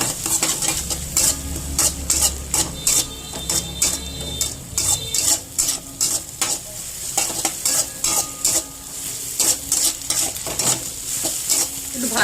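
Crushed garlic and ginger paste frying in a pan, a steady close sizzle broken by repeated sharp scrapes and taps of a spoon stirring against the metal, with a low hum in the first few seconds.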